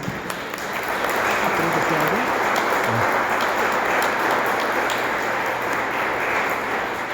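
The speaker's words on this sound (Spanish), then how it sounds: "les pido un fuerte aplauso a nuestras ponentes." An audience applauds the speakers at a book presentation, a loud sustained clapping that swells within the first second and stays dense and steady to the end.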